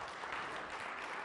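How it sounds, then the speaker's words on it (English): An audience at a masters class in Colorado Springs applauds to welcome a speaker, a dense steady patter of clapping throughout. "can we all just give a round of applause to welcome"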